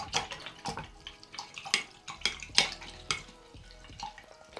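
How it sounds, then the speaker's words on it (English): A paintbrush is swished and rinsed in a water cup while painting a sunflower in acrylics, giving a series of short splashy swirls and clinks at close range, with no talking. "let's rinse off our brush"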